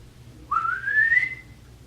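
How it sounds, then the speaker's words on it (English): An old man gives a single calling whistle, a clear rising tone that glides upward and holds for about a second over a quiet low background. "Like all night long I've been hearing that whistle."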